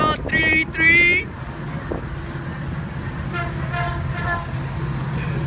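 A CN freight train with a Rocky Mountaineer coach sounds its horn in two loud, close blasts, then gives fainter, more distant toots as the train rumbles steadily past.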